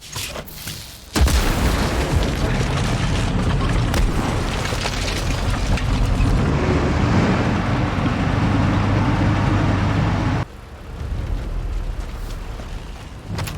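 Explosive charges detonate on a barricaded bridge in Sniper Elite 5, a loud sudden boom with splintering debris that sustains as a heavy roaring rumble for about nine seconds before cutting back to quieter ambience.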